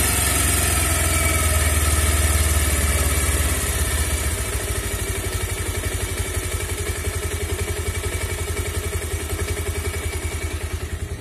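Motorcycle engine idling steadily and close, its rhythmic low clatter easing slightly lower in speed after the first few seconds as the carburetor idle is turned down.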